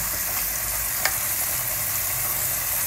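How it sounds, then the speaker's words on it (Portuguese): Beef frying in a pot with garlic and salt, a loud steady sizzle with fine crackling throughout and one brief clink partway through, no talking. "Para que a carne dê uma leve fritada com o alho e o sal já para pegar o tempero."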